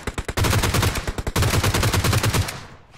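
G36C assault rifle in PUBG Mobile firing two rapid automatic bursts, loud and close, with a short gap between them and a brief trailing echo.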